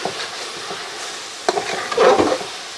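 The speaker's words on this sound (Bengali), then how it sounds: "এটাকে একটু ভালো করে কষাবো যাতে মশলার গন্ধ না থাকে" Ginger, garlic and green chilli paste frying in a pan with mutton, a soft sizzle with scraping stirs and a louder burst of spattering toward the end, no voice over it.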